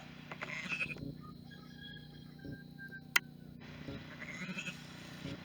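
Sheep in a small homestead pasture bleat a few times at a moderate distance, with short calls near the start and again toward the end over a quiet outdoor background.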